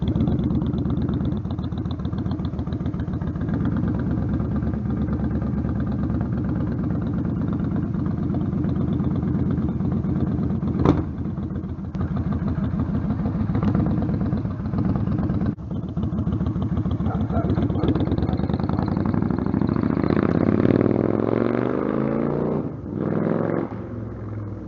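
A motorbike idles steadily for a long stretch, then revs and pulls away near the end, its engine note rising and fading, with no talking.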